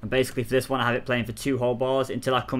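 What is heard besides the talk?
No distinct noise like a dog, phone or traffic.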